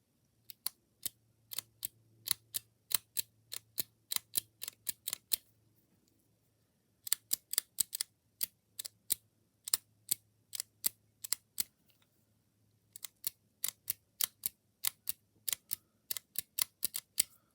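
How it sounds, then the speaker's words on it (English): A screwdriver tightens the flint spring screw on an old Ronson Whirlwind automatic petrol lighter, making rapid sharp metallic clicks in three bursts separated by short pauses, close and crisp over a faint hum. "tighten that flint spring screw on down"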